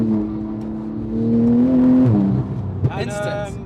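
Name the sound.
900bhp Porsche Turbo accelerating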